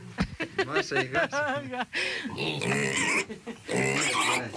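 Pigs grunt and squeal in short bursts close by, mixed with a person talking over the animal noises.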